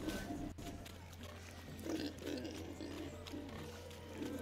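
Pigs grunting in The Witcher 3: Hearts of Stone during a village wedding, low repeated snorts over steady game ambience and music, with a player's voice talking over them.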